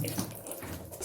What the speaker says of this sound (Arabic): اهي نضفنا السمكية. نحطها بقى في المية ام ملح